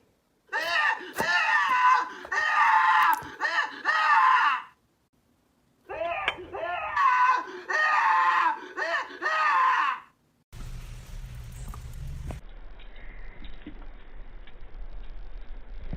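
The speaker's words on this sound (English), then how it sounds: "This person created a strawberry that screams whenever you cut into it." A cartoonish voice screams from a strawberry as it is cut into, with two long, loud bursts of wailing separated by a pause, followed by a quieter, flatter noisy stretch.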